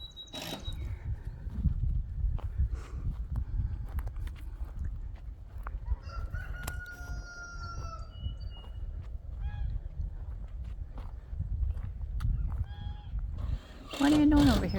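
Domestic geese honking near at hand, a few scattered calls and a loud burst at the end, with someone talking over them outdoors.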